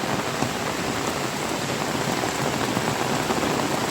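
Heavy monsoon rain of the Punarvasu season pours down in a dense, steady hiss of drops striking surfaces, loud and unbroken throughout with no voices.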